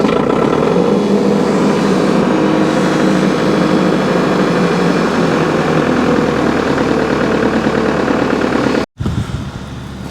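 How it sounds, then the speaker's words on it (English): A tractor engine runs steadily at a loud, close, rough idle after a cold start on a chilly day, with a brief dropout near the end, and no one speaks. "we're going to let the tractor warm up for a second"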